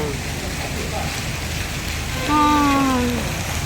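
Rain at a riverside holiday resort in Huiyang, Huizhou, makes a steady dense hiss on surfaces, close and even throughout, with a brief tonal whine rising over it near the end.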